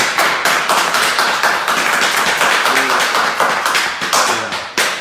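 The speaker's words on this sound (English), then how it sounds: "One more round of applause to them" A crowd gives a round of applause at a livestream event, with loud dense clapping that holds steady and then thins toward the end.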